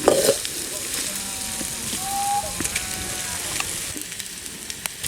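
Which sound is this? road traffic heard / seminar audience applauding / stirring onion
stirring onion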